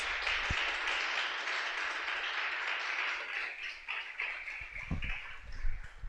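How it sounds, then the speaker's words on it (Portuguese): Church congregation clapping together during a service, a fairly faint, steady patter of many hands that thins and turns uneven toward the end, with a few louder knocks and thuds near the close. "Então vamos aplaudir o nome dele, em nome de Jesus"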